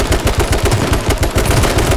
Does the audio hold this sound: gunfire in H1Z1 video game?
yes